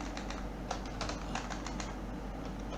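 Python code being typed on a computer keyboard: quick bursts of clicky keystrokes in an irregular rhythm, close and fairly quiet over a steady low room hum.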